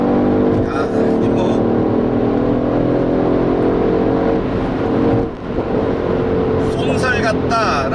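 Mercedes AMG GLE 63 4Matic accelerating in Sport Plus mode, a loud, steady engine drone with rising tone heard from inside the cabin, with a brief dip partway through.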